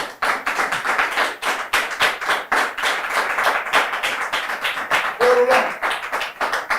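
A crowd applauds steadily with dense, overlapping hand claps, sustained loud throughout, with a brief voice or cheer rising near the end.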